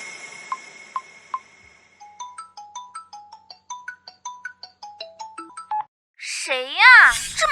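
A phone rings during an outgoing call, with a few dial tones followed by a quick, bright electronic ringtone melody in rising and falling notes. A warbling electronic tone closes the sequence, with no voices.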